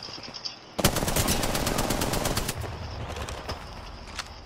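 Apex Legends gunfire, a sudden loud string of rapid automatic shots lasting nearly two seconds, then a few scattered, fainter shots, heard close with no voices over it.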